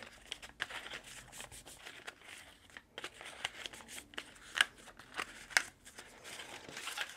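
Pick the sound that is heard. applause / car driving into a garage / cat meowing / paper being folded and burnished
paper being folded and burnished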